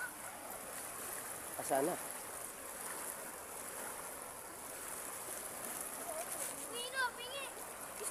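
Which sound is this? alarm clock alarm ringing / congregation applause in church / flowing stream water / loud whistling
flowing stream water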